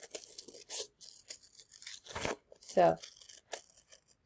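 Scissors snip and rustle paper craft pieces for a banana split craft in a few short, crisp bursts between pauses, with someone speaking briefly.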